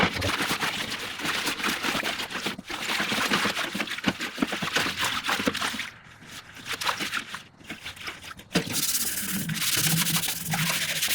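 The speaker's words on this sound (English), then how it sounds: "See if we can scrape some of this stubborn stuff off of here." A gas grill being deep cleaned as stubborn grime is scraped off its surface, making harsh, gritty rubbing strokes in steady runs, close and loud, with a few brief pauses between passes.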